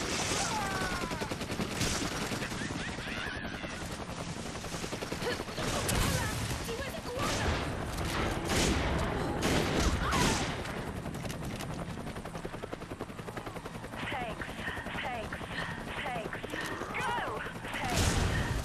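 Gunfire from a Resident Evil 5 Versus match, dense bursts of shots crackling continuously through a busy game soundscape with music and effects, loud and sustained throughout.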